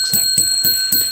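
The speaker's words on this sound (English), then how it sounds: "At 100 thumbs up, I ring that darn bell 10 times." A small bell rings four times in an even rhythm, each strike bright and ringing, close and clear with no talk.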